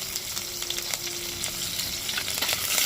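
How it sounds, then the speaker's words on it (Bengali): Chopped green chillies frying in hot oil, a bright crackling sizzle with sharp pops and spatters throughout, close and fairly loud, with a faint steady hum underneath. "এবার দিয়ে দিচ্ছি কাঁচা লঙ্কা কুচি"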